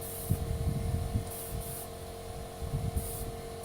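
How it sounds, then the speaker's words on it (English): Short hissing bursts of metallic brown spray paint go on in a thin coat over a woodstove, three separate sprays with quiet pauses between them against a low background rumble. "You have to put it on in 3 or 4 coats, very thin. Spray and walk away."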